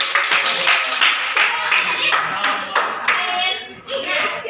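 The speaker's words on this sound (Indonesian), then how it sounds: "Tepuk tangan tuh." Students in a physics classroom clap their hands together in a quick, steady burst of close, sharp claps, with voices mixed in.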